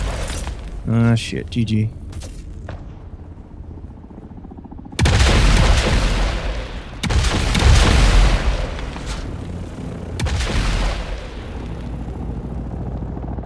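Bursts of gunfire in the Dune Awakening game arrive as three loud, dense blasts, each lasting a second or two, with speech coming before and between them.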